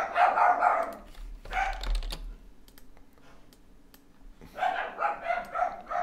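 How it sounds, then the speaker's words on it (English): Several dogs bark in short loud bursts, first at the start and again near the end, with a quiet pause between them and faint keyboard typing in the background. "They're dogs, you know, they bark."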